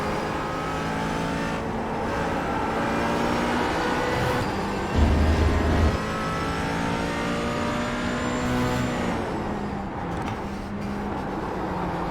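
A McLaren 570S GT4 racing at Spa in the iRacing video game, its engine droning and revving steadily with rising and falling pitch as it shifts, loud and continuous, with no talking.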